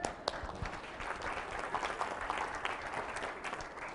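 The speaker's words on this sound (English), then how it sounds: "Dads in the room, let's have a round of applause." A room of people claps steadily at a Toastmasters humorous speech contest, a dense, even round of applause lasting throughout, with a few sharper individual claps standing out near the start.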